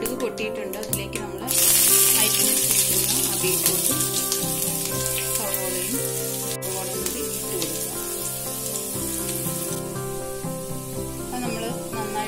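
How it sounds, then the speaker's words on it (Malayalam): Mustard seeds crackle and sizzle in hot coconut oil on the stove while beetroot upperi is being prepared. A dense, steady sizzle with scattered pops runs throughout, and it grows louder after the first couple of seconds. Music or voices sound faintly underneath. "കടുക് പൊട്ടിയിട്ടുണ്ട്."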